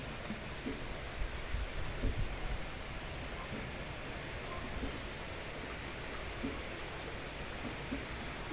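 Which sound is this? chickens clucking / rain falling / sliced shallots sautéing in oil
rain falling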